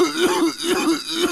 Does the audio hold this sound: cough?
yes